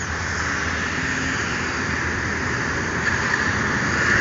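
A bus pulling into a Rosalia Indah bus station in Palembang gives a steady, loud engine drone and broad traffic rumble that holds through the whole stretch without a break.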